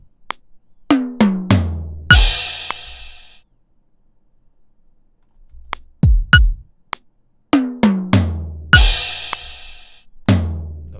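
A kick-heavy drum pattern built from virtual instruments in Presonus Studio One Prime, hi-hat and snare removed, with booming low hits and a few crashes in short repeating phrases around a silent gap.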